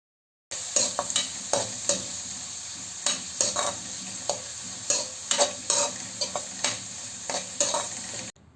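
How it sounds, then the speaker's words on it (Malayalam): Sliced onion sizzles steadily in a pan for a Malayalam-style gooseberry stir fry, while a spoon scrapes and stirs through it in irregular, close strokes over the constant frying hiss. "അതുവരെ നമുക്കിതൊന്ന് ഇളക്കി കൊടുക്കാം."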